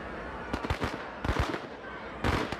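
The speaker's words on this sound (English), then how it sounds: "Let's throw firecrackers there." Firecrackers thrown during a street riot in the video game RIOT - Civil Unrest, going off as three loud bursts of rapid crackling pops spaced about a second apart.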